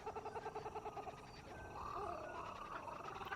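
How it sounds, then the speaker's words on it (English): A kookaburra chatters in a video game trailer, faint, with a run of quick rhythmic pulsing calls that blends into a steadier, rougher chatter. "Kookaburra chattering."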